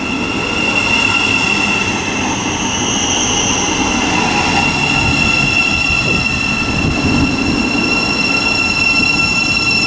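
Two coupled Class 700 Thameslink trains pull into a station bound for Bedford, a loud continuous rumble of wheels and motors with high whining and squealing tones, close by and without talk.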